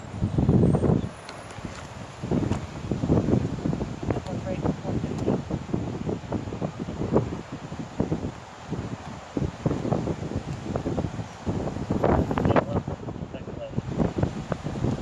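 Wind gusting outdoors, buffeting the microphone with low rumbling bursts throughout, while people talk nearby.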